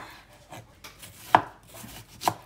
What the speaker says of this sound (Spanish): aquí tenemos picando la cebolla así en medias lunas